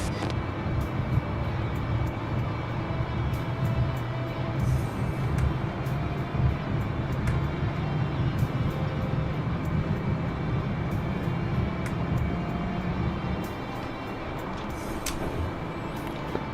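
A small aircraft's engine holds a steady, loud, continuous drone during its run-up before takeoff, a broadband rumble that stays even throughout and dips slightly near the end.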